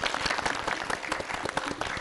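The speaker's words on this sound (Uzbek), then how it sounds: "olqishlar" Audience applause at the Uzbek quiz show "Bilim doirasida", after a school student is awarded points: dense, steady clapping from a full crowd that holds evenly for the whole moment.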